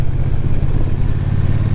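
Loud, steady exhaust drone from a 2025 Triumph Bonneville T120 fitted with short Vance and Hines side pipes, a close continuous low rumble with no voices over it.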